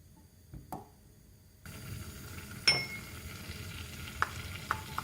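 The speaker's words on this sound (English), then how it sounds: "on a low heat, we place the butter into the saucepan." Butter melts in a saucepan on low heat, a quiet steady sizzle that starts partway through, with a few sharp clinks of a utensil against the pan.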